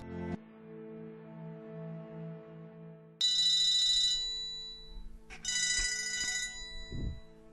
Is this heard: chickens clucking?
no